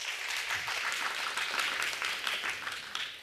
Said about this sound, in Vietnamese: một tràng pháo tay thật lớn cho bạn đi ạ